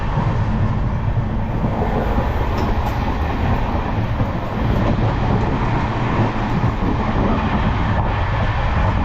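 Farakka Express 13413 passenger train running at about 100 km/h, a loud continuous rumble and roar heard from inside the carriage, with steady wheel and track noise throughout and no talking.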